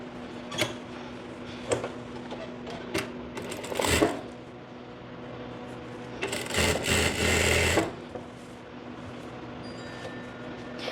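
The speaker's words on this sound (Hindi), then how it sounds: "तो अब मैं ये स्टिच पूरी लगा देती हूँ।" A sewing machine stitches the seam of a pair of ladies' pants, running close and loud in a few short bursts and then one longer run of steady whirring, with no talk.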